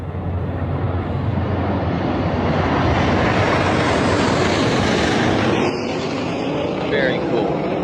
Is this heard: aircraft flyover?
yes